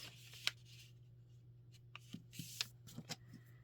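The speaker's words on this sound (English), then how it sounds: "I'm folding this book page in a little bit" Paper pages of a book being creased and folded for a junk journal, giving soft crisp rustles and a few sharp quiet creases, close and sparse, with no talking.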